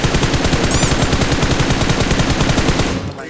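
Automatic gunfire in PUBG Mobile rattles in a loud, rapid, continuous burst of shots that cuts off near the end, with no talk over it.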